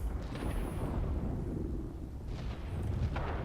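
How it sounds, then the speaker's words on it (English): Rocket fire from an enemy military base in World of Warplanes, heard as a loud, continuous booming rumble with heavy low-end bursts layered over one another, no voices present. "enemy is launching rockets at us from the military base"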